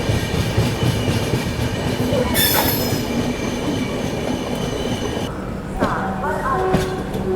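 The Brahmaputra Mail pulls into Prayagraj Junction, a steady loud rumble of the moving train with a brief high wheel squeal partway through and the roar easing as it slows.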